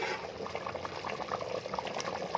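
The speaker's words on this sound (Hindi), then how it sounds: "सालन हमारा पक रहा है अच्छे तरीके से" A pot of mutton and potato curry simmers quietly in its gravy, giving off a soft continuous bubbling with small irregular pops.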